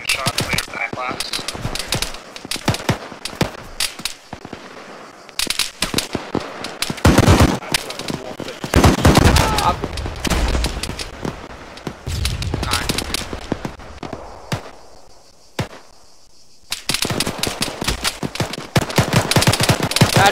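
Mounted .50 cal machine gun fire in the military game Arma, loud rapid bursts hammering out in repeated strings with short pauses between, mixed with other gunfire and voices talking over it.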